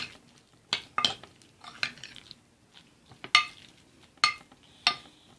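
A spoon scrapes and clinks through MRE vegetable lasagna seasoned with oregano and paprika. The contact sounds come in irregular sharp bursts with quiet gaps between them, and nobody speaks.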